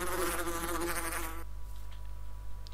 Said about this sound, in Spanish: Me cago en el sonido infernal de las abejas.